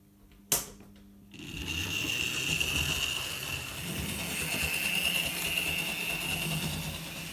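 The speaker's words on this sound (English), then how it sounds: "I oiled all the gears, all the axles, and the bearings on the motor, and this is how it's running now." A freshly oiled Bachmann J72 model locomotive runs along its track with a steady, fairly quiet mechanical whir and faint rail rattle, after a single sharp click at the start.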